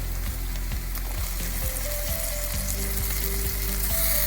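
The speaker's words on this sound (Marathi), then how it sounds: "हे सर्व जिन्नस खमंग परतून घेऊ. आता यामध्ये कच्चेपणा गेलेला आहे. यामध्ये कट केलेला टोमॅटो टाकून घेऊया." Chopped tomato and spices sizzle steadily in a pan for a homestyle Maharashtrian cabbage curry, a constant loud frying hiss punctuated by light regular clicks of stirring, with no speech.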